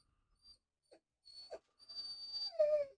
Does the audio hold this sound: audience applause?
no